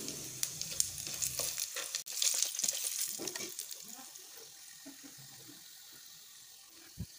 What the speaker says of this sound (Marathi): हे मसाले हलकेसे परतून घ्यायचे.